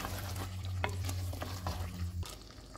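Green chillies being stirred into chicken biryani cooking in a handi, with a continuous sizzle and frying under several scraping stirs of a spoon through the pot.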